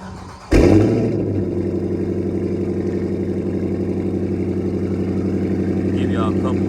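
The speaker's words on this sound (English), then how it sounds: "Give y'all a couple revs." A Dodge Challenger R/T with a Corsa Extreme catback exhaust fires up with a sharp burst, then settles into a deep, rumbling idle close to the microphone.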